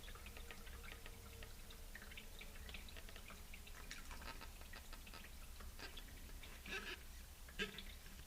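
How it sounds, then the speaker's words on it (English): Paint-rinse water with acrylic pigment drips through a strainer into a bucket, giving faint, scattered patters and small splashes over a steady hiss, with a couple of louder drops near the end. "You can see the water dripping down into the bottom of the bucket"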